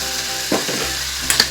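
Chicken rendang spice paste is stirred in a pan, giving a steady sizzling frying hiss with a few soft scraping strokes of the spoon, close and alone.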